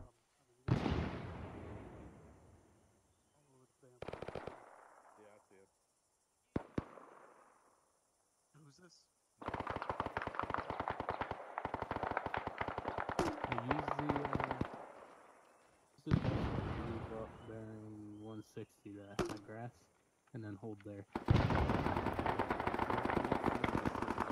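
Repeated bursts of gunfire and heavier explosive booms in a military combat video game, arriving in clusters separated by pauses, some sustained rapid volleys, loud and close at times, with faint voices in the background.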